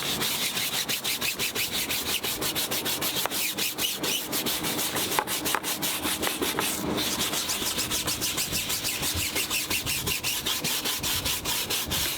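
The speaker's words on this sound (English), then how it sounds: "I give the tyre sidewall a scrub down with a Tough Shine tyre brush and Valet Pro multi-purpose cleaner" A Tough Shine tyre brush with Valet Pro multi-purpose cleaner scrubs the tyre sidewall of a Mercedes AMG GT, making fast, even back-and-forth rubbing strokes that run steadily and close throughout.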